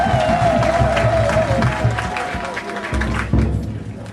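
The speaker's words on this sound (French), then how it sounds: "Est-ce qu'on peut applaudir pour les Bénin?" A crowd at an anniversary celebration applauds a visiting delegation from Benin, clapping mixed with cheering and a prolonged high voice over a dense murmur, with some thumps, loud throughout and easing slightly near the end.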